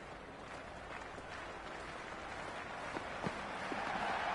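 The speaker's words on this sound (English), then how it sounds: "already the crowd making a hell of a racket" A stadium crowd cheers steadily in the Cricket 26 video game during a CSK vs RCB match, a continuous, even roar of voices and applause with no break.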